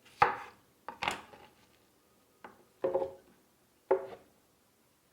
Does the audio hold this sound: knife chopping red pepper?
yes